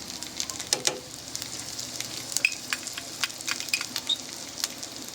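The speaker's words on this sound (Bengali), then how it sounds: "আমি এবার এর মধ্যে 1 চামচ রসুন কুচি দিয়ে দেবো" Chopped garlic sizzles in oil over browned fried onions, a close, continuous hiss dotted with sharp crackling pops and light stirring noises.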